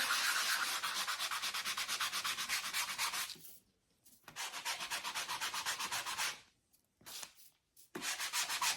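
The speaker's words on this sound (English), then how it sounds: "So the reason I am sanding over my paint" Rapid back-and-forth rasping of a sanding block on painted wood, in rhythmic bursts separated by short pauses.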